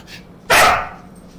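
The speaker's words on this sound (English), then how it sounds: "you're gonna break everybody's eardrums with that loud bark" A dog gives a single loud, sharp bark close by, preceded by a faint yip, with a quiet room around it.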